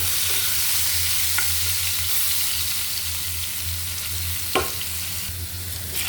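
Potato pieces frying in oil in a hot karahi, a steady close sizzle broken by a couple of sharp scraping stirs, one louder scrape near the end.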